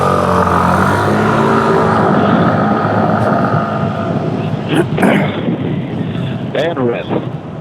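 A scooter pulls away from a green traffic light in San Francisco during a scooter rally, its engine droning steadily under people talking, with a few short horn-like tones near the end.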